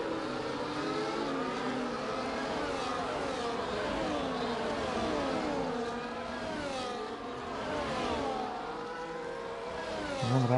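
Race cars on the Abu Dhabi Grand Prix circuit in a sim racing league, several engines whining and rising and falling in pitch as they accelerate and shift, a continuous close-up drone.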